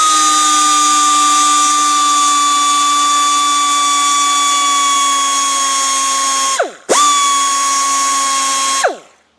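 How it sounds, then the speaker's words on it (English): A die grinder whines at a high, steady pitch while working on a Land Rover Defender door part. It is loud and close, dips briefly as it bites, then winds down at the end. "A die grinder."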